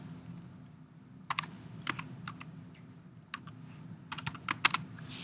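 Keys clatter on a computer keyboard in quiet bursts of quick taps, fairly close but soft, over a low steady hum.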